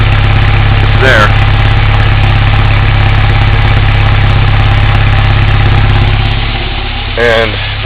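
Toyota 4Runner 1987 with a 22RE engine idling rough with a suspected misfire, a loud, close, steady low rumble from under the hood, with brief faint squeaks over it.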